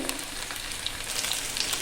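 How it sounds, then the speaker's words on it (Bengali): Steady, crackling sizzle of paneer frying in hot oil over low heat, continuous and close, with small pops over the hiss. "তখন হালকা আঁচ দিয়ে ভাজবেন, এরকম করে হালকা করে লাল লাল করে"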